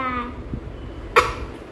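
A child gives a single short, sharp cough at close range after a moment of quiet babbling sounds, during a loose milk tooth being pulled at home.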